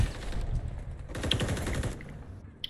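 Rapid automatic gunfire bursts in a Call of Duty match, close and fairly loud, in two quick volleys with no talk over them.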